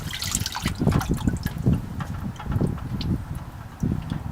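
Used motor oil drains from the oil pan of a 2008 Honda Pilot during an oil change, a continuous close trickle and splatter of liquid running into a catch container.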